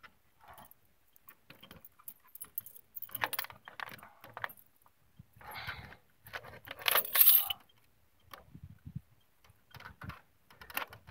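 Screws being taken out of the cover of a Centurion D5 Evo gate motor, in short bursts of metallic clicks and scraping handling noise, close and fairly quiet, with no talking.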